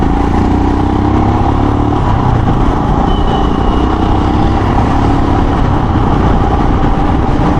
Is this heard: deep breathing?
no